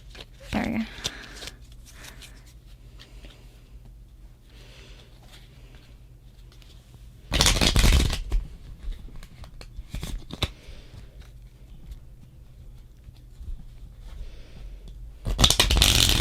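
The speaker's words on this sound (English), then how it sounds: "Now I'm going to shuffle again" Fortune telling cards being shuffled in bursts, with two loud riffling runs separated by quieter handling and faint room noise.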